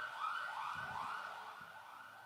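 Ambulance siren wailing in rising and falling sweeps, steady and moderately loud at a middle distance, with faint low traffic rumble beneath and no voices.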